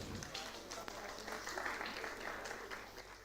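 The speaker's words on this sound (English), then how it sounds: "Let the love towards your peers be heard through the sound of your claps." A hall of students applauds their peers at a university convocation ceremony, a faint, continuous wash of clapping heard from a distance without any distinct individual claps.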